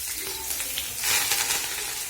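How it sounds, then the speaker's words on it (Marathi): Onion, cumin, coriander, spices and tomato sizzle in hot oil in a brief, soft, steady fry that swells slightly midway, with no voices. "तर हे सगळं मी तेलामध्ये भाजून घेऊन नंतर मटकी टाकणार आहे"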